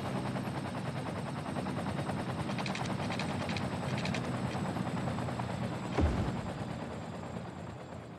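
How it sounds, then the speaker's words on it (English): Helicopters fighting a house fire in the city-building game Cities: Skylines, a continuous rotor thrum with steady chopping texture and a brief thump near the end, no speech. "Yeah, that's how you put out a house fire,"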